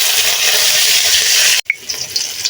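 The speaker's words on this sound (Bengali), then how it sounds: "কাঁচা মরিচ এবং কাঁচা রসুন ভেজে নেব।" Onion, green chilli and garlic fry in a pan with a loud, steady hiss, which breaks off abruptly partway through and returns more quietly with a brief clink.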